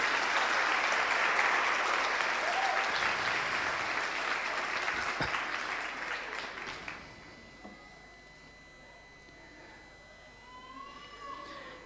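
A church congregation claps for Jesus during a Spanish-language sermon, a loud, full burst of applause that fades after about seven seconds, leaving a quiet room with faint murmurs.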